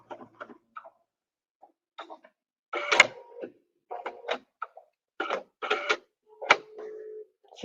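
An embroidery machine works on a Christmas cake design, giving bursts of mechanical stitching clatter with short pauses and clicks as it trims the thread, fairly close and moderately loud, with no talk.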